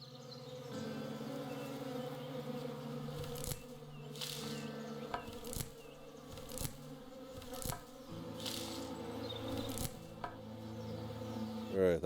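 Insect buzzing from bees in the western survival game Above Snakes, a steady faint drone over quiet ambient game sound, broken by a few sharp clicks and louder bursts.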